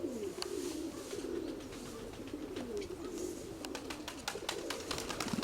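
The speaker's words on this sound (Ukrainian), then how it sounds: "Минулорічний голуб." Pigeons coo steadily in low, throaty murmurs, with sharp flapping wing claps and rustles breaking in toward the end.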